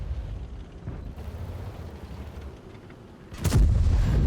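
Grille 15 tank destroyer in World of Tanks fires its gun, a single loud, heavy boom near the end that stays as a low rumble, after a stretch of dull, low engine-like noise.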